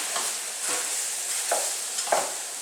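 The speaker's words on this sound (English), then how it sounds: "So I want to mix the flour nicely." A spoon stirring flour into a lamb stew sauce in a pot, a few soft scraping strokes over a quiet simmering hiss.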